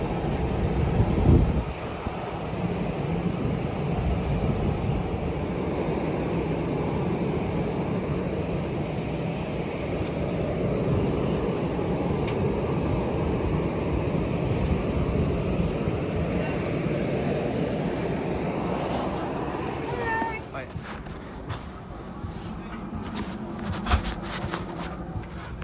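A steady, loud roar of an Aurigny airliner's engine heard from a cabin window seat in flight to Guernsey, a constant broadband drone that continues throughout with a slight shift near the end.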